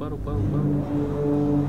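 A ship horn sounds in the dark puzzle game Inside as a low, sustained, droning blare with layered tones, steady and moderately loud, while a person briefly talks over it.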